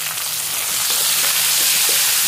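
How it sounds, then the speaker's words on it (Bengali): Spices, ginger and chopped tomatoes fry in a pan, a loud steady sizzle close up with faint scraping from stirring and no voices. "এরপর আমরা কেটে রাখা টমেটোগুলোকে এর সঙ্গে নেড়ে নেব ভালো করে।"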